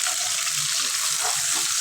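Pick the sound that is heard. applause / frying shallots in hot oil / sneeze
frying shallots in hot oil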